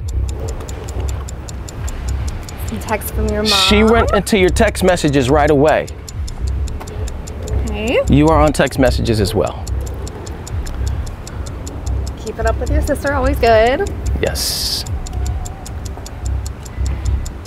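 A clock ticks steadily and evenly through a one-minute countdown, its fast regular clicks running under people talking back and forth.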